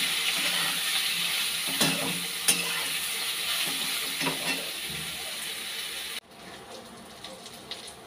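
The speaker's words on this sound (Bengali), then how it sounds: "গরম জল দিয়ে ধুয়ে নিয়েছি সয়াবিনটা ভালো করে। হলুদ দিয়ে দিচ্ছি, নুন দিয়ে দিচ্ছি, দিয়ে একটু ভেজে নিই।" Soybean chunks, washed in hot water, fry in a pan with turmeric and salt, giving a steady loud sizzle with a few sharp stirring scrapes and clacks, before the hiss drops suddenly to a quieter level near the end.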